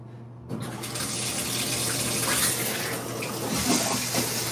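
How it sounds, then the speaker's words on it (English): A shower starts running after a brief silence and then pours as a steady, close hiss of spraying water that holds without a break. "Watch me take a shower"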